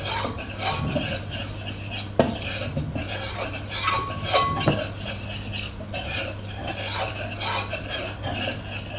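Dry cake ingredients, flour with a pinch of salt, being stirred together in a bowl for a strawberry and almond cake, a steady scraping and rasping of utensil against bowl with a couple of louder clinks, close by and without talk.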